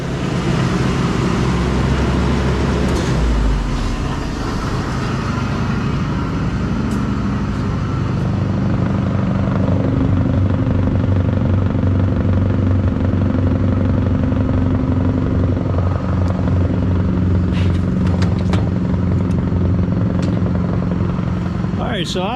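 A Bandit wood chipper engine runs at about quarter throttle, a loud continuous low drone and clatter filling the whole stretch, close by, with some rattling near the end.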